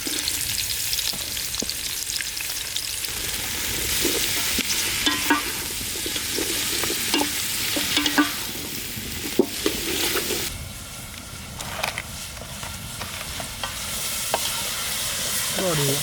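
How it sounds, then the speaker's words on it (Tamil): Onions fry in hot oil for paneer butter masala, a steady loud sizzle with stirring and scraping in the pan that runs throughout, growing brighter and hissier near the end. "எண்ணெய் நல்லா சூடாகணும். வெங்காயத்தை போட்டுக்கணும்."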